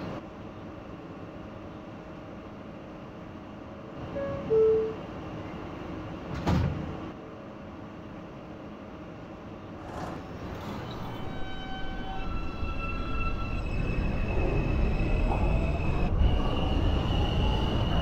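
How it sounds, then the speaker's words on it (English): An E subway train in the OpenBVE train simulator runs at Canal station: a low rumble with doors sliding and thudding, then rising wheel and motor noise as the train pulls away, growing louder over time. "This is a World Trade Center bound E train."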